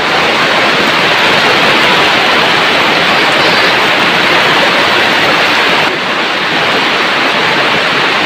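Heavy rain pours down steadily in a village during a downpour driven by wind and dust, a dense, unbroken roar of water that stays loud and close throughout, with no voices.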